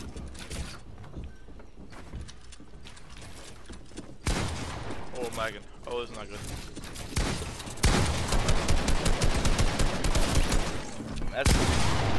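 A video game firefight with a shotgun and an assault rifle: scattered sharp shots and mechanical clicks build into rapid, loud bursts of gunfire toward the end, with someone talking over parts of it.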